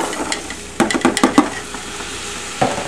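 Beans are tipped into a pot of chili and stirred. A quick cluster of wet clatters and scrapes sounds close by, then one more knock follows, with a faint simmering sizzle underneath.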